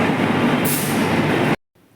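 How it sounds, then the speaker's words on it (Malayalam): A train rumbles at Chhatrapati Shivaji Terminus railway station in Mumbai, a loud, close, steady roar with a brief high-pitched hiss partway through, then cutting off suddenly. "ഛത്രപതി ശിവാജി ടെർമിനലിൽ നമ്മൾ ഇറങ്ങിയിരിക്കുകയാണ്"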